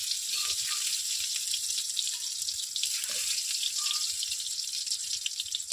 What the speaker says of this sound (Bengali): আলুগুলো সুন্দর করে লাল লাল করে ভেজে নিই